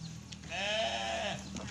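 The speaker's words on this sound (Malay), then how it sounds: "Kambing." A single goat at a crocodile park in Miri lets out one drawn-out wavering bleat, close and clear over quiet background hum.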